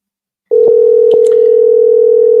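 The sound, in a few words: telephone dial tone on radio show phone line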